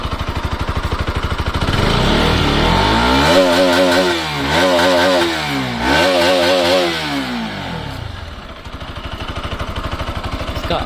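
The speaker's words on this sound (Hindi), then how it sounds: "तो मैं अब आपको इसका एग्जॉस्ट साउंड सुनाने जा रहा हूँ।" Bajaj Pulsar RS200 motorcycle exhaust revved while standing, the engine idling with a burbling thrum, then rising in two sharp throttle blips and falling back, loud and close with no talk.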